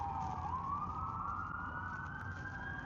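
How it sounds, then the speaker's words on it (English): An ambulance siren wails as the vehicle drives past, a single rising tone sweeping upward over low road rumble, fairly loud and close, with no talk. "Ambulance driving by."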